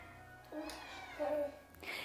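A cat gives a couple of short, soft meows close by, with faint background noise in a quiet room.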